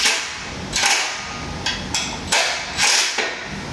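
Tightening a pressure-mounted baby gate produces several sharp clicking and ratcheting knocks, close up and fairly loud, spaced unevenly across a few seconds.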